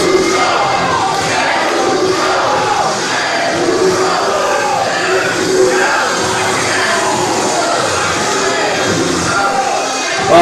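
A wrestling arena crowd roaring steadily in support of the Mancuso brothers, a dense, loud wall of cheers and shouts that holds without a break throughout.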